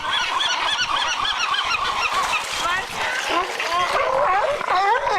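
A crowd of hungry seabirds squawks and honks continuously at close range while being hand-fed fish at a marine park, a dense overlapping clamor with people talking faintly underneath.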